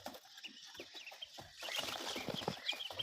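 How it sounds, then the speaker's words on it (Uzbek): Many young poultry chicks, including ducklings and guinea fowl keets, cheep inside a brooder house, a busy cluster of high, faint peeping calls with no talk. "Bir talay jo'jalar."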